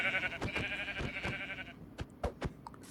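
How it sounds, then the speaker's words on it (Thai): Sheep in the video game Minecraft bleat in a quick cluster of short, fairly loud calls over clicky in-game sounds, with no talking. "เดี๋ยวจะตีขนแกะก่อนเอามันทับเตียง"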